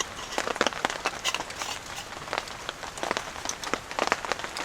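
Steady rain patters on a surface at a jungle campsite, a dense, even hiss of drops with scattered louder taps, fairly close and with no voices.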